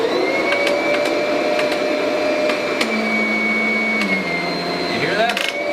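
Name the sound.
Kirby vacuum cleaner sealing to the carpet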